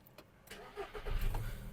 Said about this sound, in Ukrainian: Автомобіль завівся з півтику.